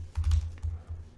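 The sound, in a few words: typing on a computer keyboard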